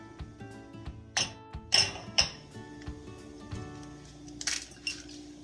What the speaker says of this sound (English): Grab 2 eggs and crack them over a small bowl.